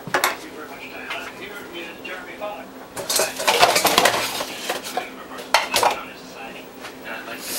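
Dishes and cutlery clatter and clink as someone rummages through a pile for a spoon, with bursts of loud scraping and rattling, while people talk nearby.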